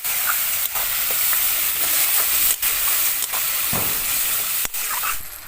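Spice paste sizzles and hisses steadily in a hot pan as it is stir-fried for a vegetarian festive thali, with occasional scrapes and brief clinks of a spatula breaking through the constant frying noise.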